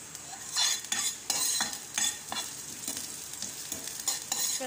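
Ginger slices frying in oil in a pan, a steady sizzle with repeated bursts of scraping and stirring at a close distance, with no voices present.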